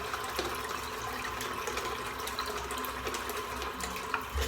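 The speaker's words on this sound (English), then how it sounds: "Just a little bit of water in there." Water trickles and splashes into a shaving lather bowl at a sink, a faint continuous running sound with small irregular drips and no talking.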